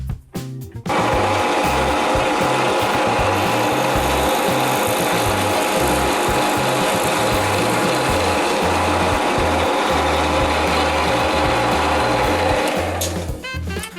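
A Titan TTB541DBT drill press with a laser guide spins up and drills with a loud, steady mechanical whir and a low rhythmic rumble for about twelve seconds, then winds down at the end.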